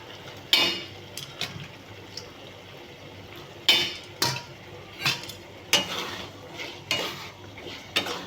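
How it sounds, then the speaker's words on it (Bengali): Boiled kabuli chickpeas are sautéed with spice masala in a pan, heard as a soft background sizzle broken by sharp, irregular scrapes and clacks of a spoon stirring against the pan. "এবারে এটার মধ্যে আমি এই ছোলাগুলো দিয়ে একটু কষিয়ে নেব"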